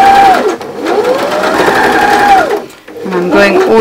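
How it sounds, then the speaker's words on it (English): A sewing machine runs a straight stitch along the pinned edges of a fabric cushion cover, its motor whirring loudly and continuously with pitch rising and falling, pausing briefly before restarting. "I'm just doing a straight stitch."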